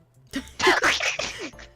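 A single sharp human sneeze bursts out after a brief quiet moment, loud and close, with a short breathy tail.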